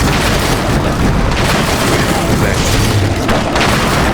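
A musket volley in the strategy video game Battle Realms II, heard as a loud, dense roar of overlapping gunfire booms that holds for several seconds.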